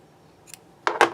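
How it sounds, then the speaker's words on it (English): Two quick, close snips of scissors cutting crochet yarn, a faint click just before them, with no talk. "cut off the yarn"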